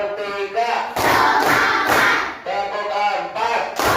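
A class of pupils in a counting clap game chant together in rhythm, then break into a dense, loud burst of group hand clapping, followed by more chanting and another short round of claps.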